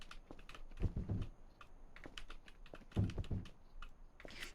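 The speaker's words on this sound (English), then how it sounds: "Those are some weird sounds paper is making." Paper rustling in the Voices of the Void video game, scattered crisp clicks and crinkles with two louder bursts of handling noise, close and fairly quiet.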